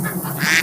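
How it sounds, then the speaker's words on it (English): A duck quacks nearby in a short burst, clear above a steady background hum in a space where bees are buzzing. "There's a duck. You hear that duck?"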